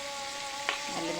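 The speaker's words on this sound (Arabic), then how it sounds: "هجيب الكرنبيط وهنزله في الخليط ده وهحمره" Cauliflower pieces coated in batter sizzle in hot oil, a steady frying hiss with a brief bubbling burst as a piece drops in.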